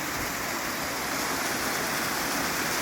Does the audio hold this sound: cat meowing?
no